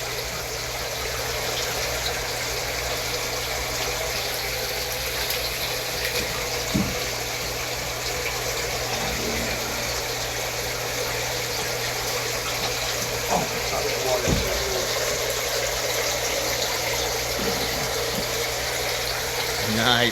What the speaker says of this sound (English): Alright, that's enough water. Go shut that water off